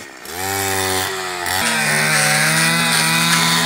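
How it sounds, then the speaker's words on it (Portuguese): Two-stroke brush cutter clearing undergrowth in a cacao plantation, a loud, steady engine whine close by that dips briefly and then revs back up and holds high throughout, with no talking. "Mas com a máquina, com a roçadeira,"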